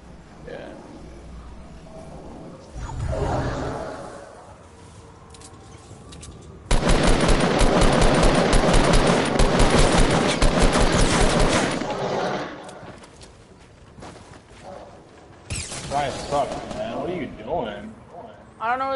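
Sustained bursts of automatic gunfire and shotgun blasts from a PS4 shooter game, loud and dense for several seconds mid-clip with a second burst near the end, while players talk over it before and after.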